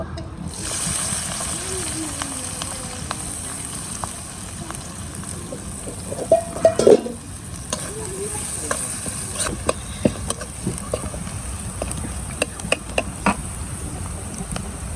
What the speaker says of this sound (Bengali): এখন এই তেলের মধ্যে পেঁয়াজ আর মরিচ কুচি দিয়ে দেব।